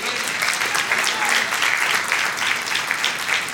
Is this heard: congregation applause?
yes